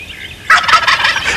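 A wild turkey gobbler lets out a loud, rapid gobble that bursts in mid-clip and rattles on to the end, heard alone with no talking.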